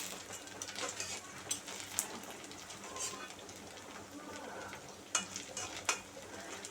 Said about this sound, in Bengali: আমি এটাকে ভালো মতো ভেজে নেব।